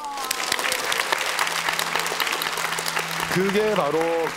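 An audience at a lecture claps in a dense, steady burst of applause that fills the room from start to finish, while a voice speaks over it and a tonal musical sound rises near the end.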